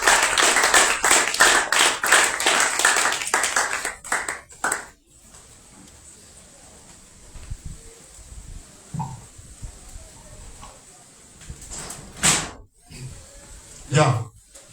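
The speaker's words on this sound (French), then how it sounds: "Acclamons le Seigneur Jésus-Christ" An audience at a French-language commemorative religious conference bursts into clapping in praise of Jesus Christ. The applause lasts about four seconds, then gives way to quieter room sound with scattered voices and a few sharp knocks.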